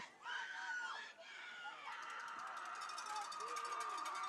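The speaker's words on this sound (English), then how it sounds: "we are still hearing the crowd here at Cheboygan" A crowd cheers and shouts from the stands at a Cheboygan high school football game, a broad distant roar that swells and fades while announcers talk over it.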